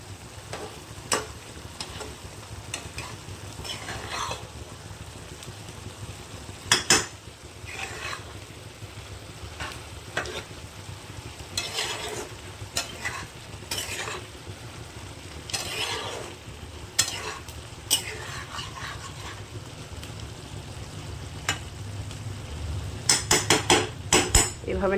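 A spoon stirs poppy seed paste with bori lentil dumplings frying in a pan, giving a steady low sizzle broken by repeated scrapes and sharp metallic clinks against the pan over the whole stretch, with no talking.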